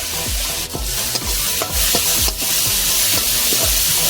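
Onions frying and browning in a pan, stirred steadily with a utensil, giving loud close rhythmic scraping strokes about every half second over a constant bright sizzle.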